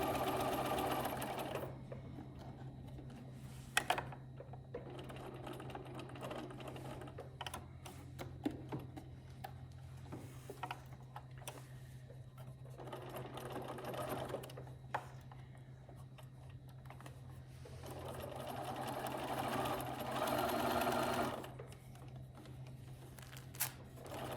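A sewing machine runs top stitching about 1/8 inch from the edge all the way around a bunny bag, its motor whirring in steady bursts with short pauses between runs, close and fairly quiet.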